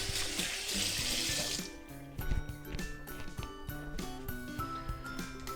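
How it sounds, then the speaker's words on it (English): Water runs steadily from a kitchen sink tap while hands are washed beneath it, a continuous close splashing with brief shifts as the hands move through the stream. "let's wash our hands"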